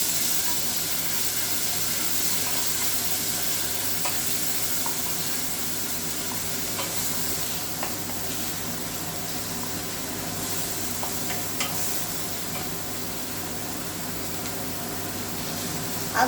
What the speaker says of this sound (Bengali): আদা রসুনের যে পেস্টটা করে রেখেছি আদা রসুনের পেস্টটা দিয়ে এটাকে আমি একটু নাড়াচাড়া করে